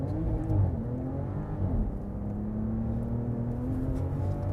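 A 2025 Ram RHO pickup truck launches and accelerates, its engine droning steadily from inside the cab. The pitch climbs and drops back as it shifts up through the gears, with no talking.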